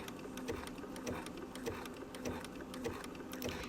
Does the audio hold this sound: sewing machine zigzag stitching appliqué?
yes